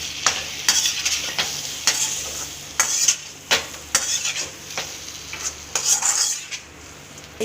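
Crushed raw garlic hits a hot pan and is stirred, metal utensil scrapes and taps in an irregular rhythm over a low sizzle, close and clear with no talking.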